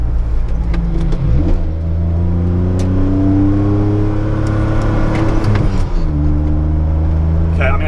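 A DeLorean lapping the Nürburgring Nordschleife on a busy track, its engine droning loud inside the cabin, easing off and then climbing again through the rev range as the driver brakes and accelerates, with someone talking over it.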